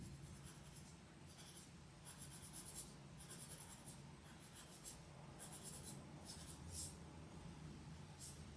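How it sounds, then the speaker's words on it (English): A white pencil works highlights onto a hyper-realistic portrait, giving soft, close scratchy strokes in short bursts over a faint steady background hiss. "we can take the white pencil and just make these highlights pop out ever so slightly more"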